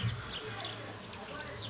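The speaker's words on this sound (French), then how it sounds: "ces abeilles, si vous voyez, oh, elles font comme ça avec le ventre et elles vibrent" A faint, soft buzzing of small stingless melipona bees vibrating on cabeludinha flowers close by, with brief high chirps scattered through a quiet background.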